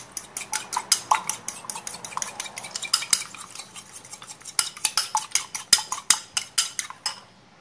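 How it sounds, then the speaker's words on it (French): An egg and salt are stirred in a bowl with rapid, repeated clinking taps of a utensil against the dish, brisk and close, with short pauses between bursts. "Je mélange."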